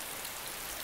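Rain falling in the video game DayZ Standalone, a steady hiss of drops on surfaces, close and continuous with no talk.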